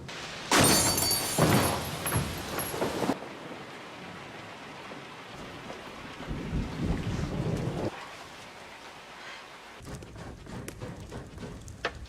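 Sudden rain with thunder: a sharp, loud crack and rumble of thunder opens, followed by steady rain hiss with a second swell of rumbling and more crackling bursts near the end.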